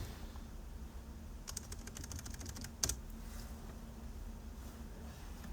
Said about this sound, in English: We have to type an option line.